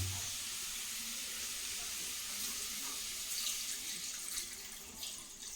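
Water runs steadily with a soft, continuous splashing hiss as it is poured into a pot of fish curry, with faint clinks toward the end and no voices.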